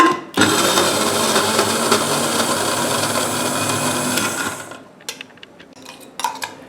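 A blender grinds garlic and ginger into paste with a loud, steady whirring roar for several seconds, then cuts out, leaving clinks and knocks of kitchen utensils.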